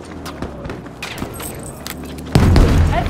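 Grenade blast in Battlefield 5, a loud booming burst arriving late after scattered thumps and clatter, with the explosion's rumble ringing out to the end.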